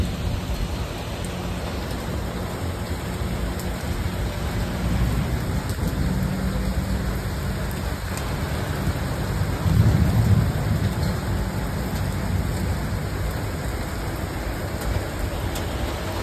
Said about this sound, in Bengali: আজকে আবার দেখো বৃষ্টি শুরু হয়েছে কত জোরে।